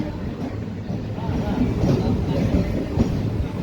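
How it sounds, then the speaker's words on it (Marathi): The Pandharpur Nizamabad Express pulls out of Parbhani Junction with a continuous low rumble and rattle of carriages that swells slightly as the train gathers speed, heard from close by throughout. "परभणी जंक्शनवरून आपली ट्रेन निघालेली आहे"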